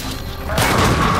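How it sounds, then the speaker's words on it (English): Heavy cannon fire in the Halo 5: Guardians campaign mission Evacuation, heard as a loud booming blast that swells abruptly about halfway through over a dense, continuous din of battle. "So see that he was launching that cannon fire."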